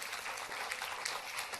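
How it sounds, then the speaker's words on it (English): Sustained applause from a convocation audience, a dense even patter of many hands clapping at moderate distance, steady throughout without voices. "a big round of applause for them."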